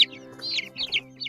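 A batch of meat chickens clucks softly nearby, a brief murmur of short, overlapping clucks and chirpy calls over a faint steady hum.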